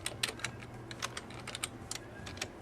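Typing on a computer keyboard while logging in to EMS Professional software, a steady run of light, close key clicks in an irregular rhythm with no talk.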